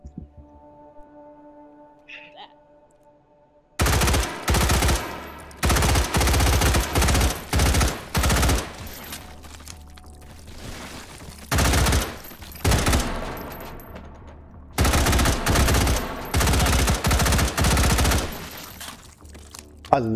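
Guns fire in the VR shooter H3VR in Take and Hold mode: after a quiet start, loud bursts of rapid automatic gunfire come in repeated volleys separated by short pauses.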